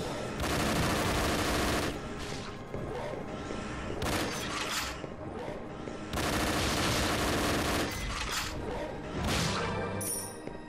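Player's gun firing in the video game Raspberry Mash, dense bursts of sharp rapid shots in several volleys separated by short pauses, loud and close.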